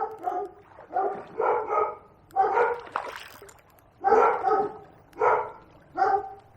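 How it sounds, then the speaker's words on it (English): Dogs barking repeatedly outdoors beside a small river in winter, a steady series of loud, close barks and yips in short bursts. "Do excuse the dogs."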